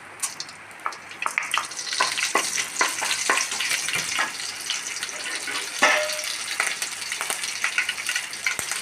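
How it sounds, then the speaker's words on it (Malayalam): Mustard seeds crackle and pop in hot oil while a papaya curry is being tempered, giving a close run of sharp, irregular splutters over a steady frying hiss. "ആദ്യം കടുകിടാം"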